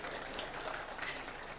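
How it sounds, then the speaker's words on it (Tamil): An audience at a Tamil public speech claps in a continuous, dense patter that holds evenly throughout, fairly faint and with no one talking. "ஒரு பெரிய கைத்தட்டி முடிச்சிருங்க"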